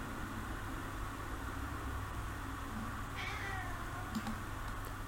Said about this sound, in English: can you hear whiny cat is still whining?